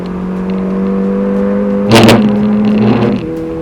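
A car driven flat out during a brake test, its engine holding a loud steady drone with a sharp burst and pitch shift midway before settling again, close and with no talk.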